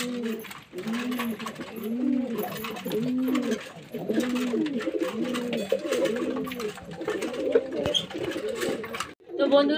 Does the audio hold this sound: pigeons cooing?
yes